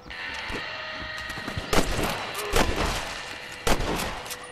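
Loud gunshots ring out during a Red Dead Redemption shootout match, several sharp booming reports spaced a second or so apart over a constant game background.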